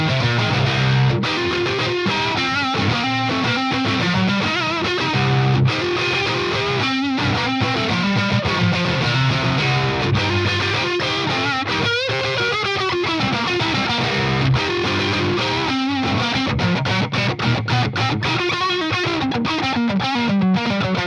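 Telecaster electric guitar fitted with Nomads Tele Coils pickups playing heavy distorted riffs, loud and dense with chugging palm-muted rhythms and bright, cutting chords throughout.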